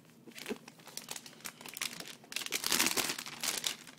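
Thin plastic wrap crinkles and tears as it is peeled off a unibody Mac Mini, a close, busy crackling that grows louder and denser toward the end, with no voices.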